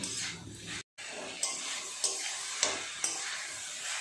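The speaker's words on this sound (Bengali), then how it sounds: "আলু বিট গাজর একসাথে এইভাবে মিশিয়ে নেব" Mashed boiled potato, beet and carrot being stirred together for vegetable chops, giving soft wet squelching and scraping with a few sharper clicks of the utensil against the bowl, close and fairly quiet.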